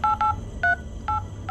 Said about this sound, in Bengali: তরুণ বারবার তাদেরকে ফোন করার চেষ্টা করে, কিন্তু নেটওয়ার্ক না থাকায় ফোন যায় না